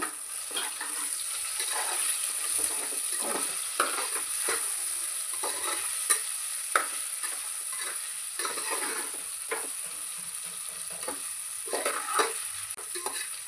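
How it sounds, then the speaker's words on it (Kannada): Paneer and salt sizzle in a pan with a steady frying hiss throughout, while a spoon scrapes and stirs in irregular clinks and scuffs, close and moderately loud, with no talking. "ಹಾಗೆ ಉಪ್ಪು ಸ್ವಲ್ಪ ಫ್ರೈ ಮಾಡ್ಕೊಬೇಕು ಅಷ್ಟೇ ಹಾಕೊಂಡು ಸ್ಟಾರ್ಟಿಂಗ್ದಾಗ ಪನ್ನೀರ್ ಇರ್ತದಲ್ವ ಕೆಳಗೆ ಮೆತ್ಕೊತದ"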